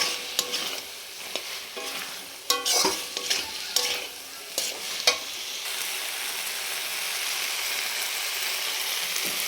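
Potatoes frying in spiced oil are stirred in a pan, with a few sharp scraping strokes over a steady, close sizzle that runs on alone once the stirring stops.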